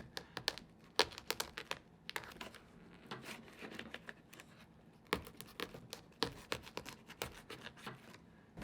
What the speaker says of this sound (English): the first thing we do is we cut an X in the plastic